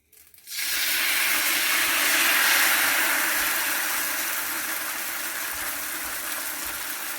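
Rice batter for Malvani ghavane poured onto a hot pan on medium gas, giving a sudden loud steamy hiss that swells and then settles into a steady sizzle, close and alone.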